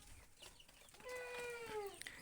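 Laying hens on a poultry farm give a drawn-out, rising-and-falling cluck over a faint, busy barn background, with no talking.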